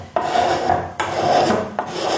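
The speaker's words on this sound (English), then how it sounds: "This sort of works like a little hand plane." Three long rasping strokes of a small plane-like tool shaving along a rustic wooden table edge, each a steady scraping pass separated by brief pauses, close and fairly loud.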